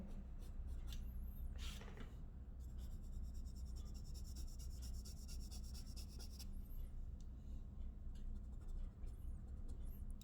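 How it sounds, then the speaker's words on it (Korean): Firm graphite pencil strokes rasp steadily across paper while shading a soccer ball still-life drawing, a continuous close scratching texture with faint short squeaks. "자, 이렇게 힘있게 검은색 힘있게 그려줍니다"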